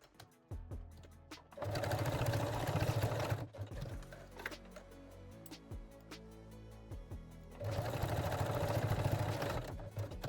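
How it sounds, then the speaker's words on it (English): A domestic sewing machine runs straight stitches across bralette strap loops in two steady bursts of rapid mechanical whirring, with quieter clicks, handling and fabric shuffling between them. "Now secure your strap loops with a straight stitch."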